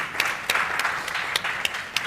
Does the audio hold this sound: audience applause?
yes